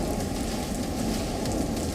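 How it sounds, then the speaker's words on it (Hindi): Heavy rain pours steadily in Ambala, Haryana, a dense, continuous hiss and patter that stays loud and unbroken throughout, with no voices. "हरियाणा के अंबाला में भी बारिश रुकने का नाम नहीं ले रही,"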